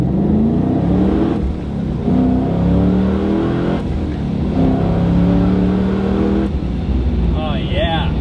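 An LS-swapped BMW E30 launches hard from a standstill, its V8 revving up through rising, wavering engine harmonics with a steady loud roar and brief shifts, close and continuous throughout.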